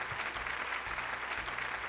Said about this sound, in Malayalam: നല്ലൊരു കയ്യടി കൊടുക്കാം എല്ലാ നേഴ്സുമാർക്കും